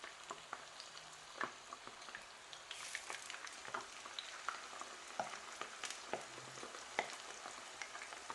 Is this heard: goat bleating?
no